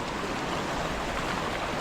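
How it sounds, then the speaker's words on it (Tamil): Rushing Kaveri river water in flood near Mysore, a dense, steady broadband roar of forceful flow, close and unbroken for the whole stretch. "பயங்கர ஃபோர்ஸாக இருக்குது தண்ணி"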